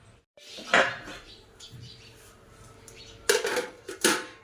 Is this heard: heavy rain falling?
no